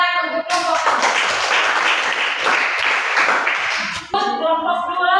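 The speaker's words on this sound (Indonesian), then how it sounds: "tepuk tangan untuk kelompok" Classroom applause for a student presentation group, a burst of many hands clapping together for about three and a half seconds, fairly close and loud, with talk before and after.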